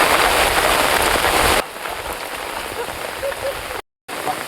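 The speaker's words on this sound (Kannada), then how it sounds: "ಮಳೆ ತುಂಬಾ ಜೋರಾಗಿ ಬರ್ತಿದೆ." Heavy rain drums loudly and closely for the first second and a half, then continues as a softer, steady patter with a brief dropout near the end.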